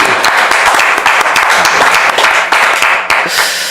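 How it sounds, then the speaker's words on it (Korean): Church congregation applauding during a Palm Sunday worship service, loud, dense clapping with many distinct sharp claps, sustained and close throughout. "우리 주님께 감사와 영광의 박수 올려줍시다"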